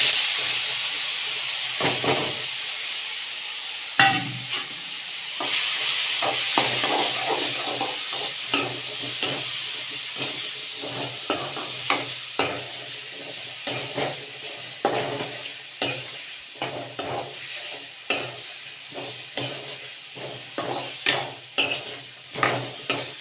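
Mustard seeds, cumin and curry leaves sizzling in hot oil, a bright steamy hiss that flares suddenly near the start, then settles under a run of sharp pops and spoon scrapes, close up with no voices.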